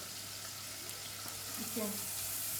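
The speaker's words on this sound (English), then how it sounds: "remember to always fry your onions with a bit of white pepper" Onions with a pinch of white pepper fry in a pan with a steady, soft sizzle that runs continuously, quiet and close, while a voice talks briefly over it.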